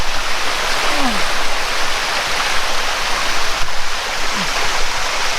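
A small rocky stream near Thottikallu Falls outside Bangalore, rushing down toward the waterfall with a steady, loud, close broadband roar and hiss that does not let up.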